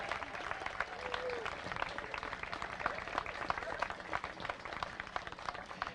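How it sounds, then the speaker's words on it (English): A crowd at an outdoor park dedication ceremony applauds young readers from school classes, with steady, even clapping throughout that sounds somewhat distant and moderately loud. "I also want to give a big round of applause to our newest generation of readers"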